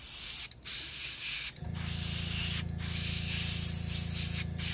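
Airbrush spraying paint on a Fujimi 1/24 Blade Runner Spinner model kit, a steady close hiss of spray with a few brief interruptions, joined by a low compressor hum partway through.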